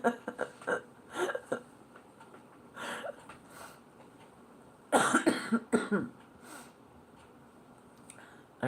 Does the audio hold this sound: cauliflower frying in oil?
no